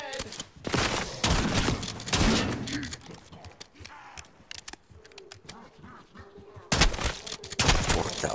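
Gunfire in Black Ops 6 comes in loud clustered bursts at the start and again near the end, with a quieter stretch of scattered game sounds in between.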